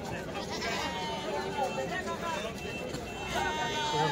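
Young goats bleat at a busy goat market in Dhule, with several short wavering cries rising over a steady crowd din and people talking nearby.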